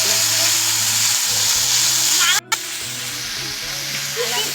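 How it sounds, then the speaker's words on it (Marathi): Masala sizzling and frying in hot oil for a Marathi-style fish curry, a loud continuous close hiss with a brief interruption midway before the crackle resumes. "आपलं तेल आता हा टाकला मसाला तेल तपलं"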